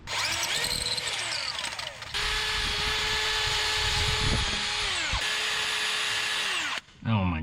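A DeWalt cordless drill with a slipping chuck gives a close, loud whine that changes pitch, cuts out, starts up again, and ends with a short burst near the end.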